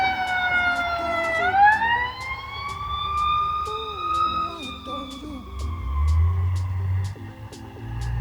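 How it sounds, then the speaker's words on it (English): A loud wailing ambulance siren sweeps up and holds, passing close by amid traffic noise and a low engine rumble. "That's a ambulance."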